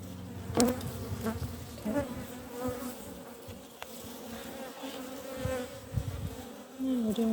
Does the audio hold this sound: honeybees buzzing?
yes